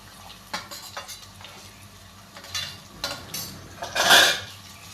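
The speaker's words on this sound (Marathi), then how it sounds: "इथे आपण चिरलेला कांदा घेतलेला आहे आणि आता आपण तो मस्त परतून घेऊयात" Chopped onion for Puneri misal is sautéed in a pan, with several bursts of stirring and scraping, a few metallic clinks of utensil on pan and a brief louder sizzle near the end, close up.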